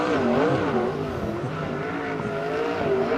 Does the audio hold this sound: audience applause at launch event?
no